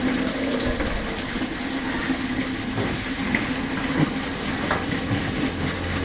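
Mountain spring water gushes in a steady, continuous rush, loud and close throughout, with no talk over it.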